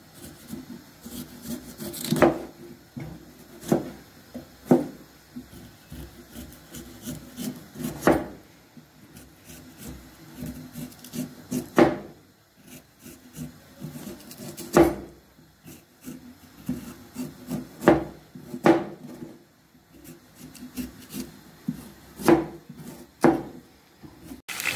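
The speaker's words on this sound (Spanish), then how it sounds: "Ahora procedemos a pelar el ñame" A knife scrapes and peels the skin off a yam (ñame) in a kitchen, giving short, irregular rasping strokes with occasional sharper knocks, fairly close and alone.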